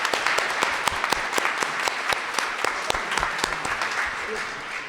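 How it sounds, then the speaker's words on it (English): An audience at a community radio-style theatre show claps together for sponsors, steady applause with sharp individual claps standing out near the mic, with some talking underneath. "we'd like to invite you to participate in a round of applause for"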